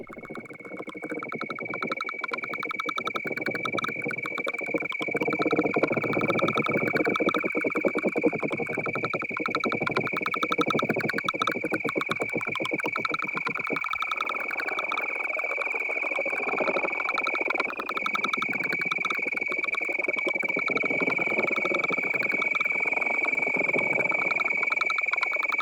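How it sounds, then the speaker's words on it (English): Crickets chirp at night in a steady, continuous high-pitched trill that holds evenly throughout, set over a dense, softer bed of insect and night ambience. "crickets."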